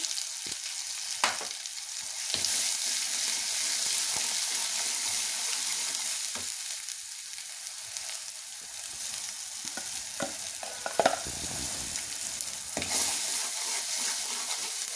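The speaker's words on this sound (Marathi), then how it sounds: "आता हे आपल्याला बारीक गॅसवर छान परतून घ्यायचंय।" Masala with turmeric sautéing in oil over a low flame for an egg curry, a gentle steady sizzle with occasional stir scrapes and taps over fifteen seconds, no voices.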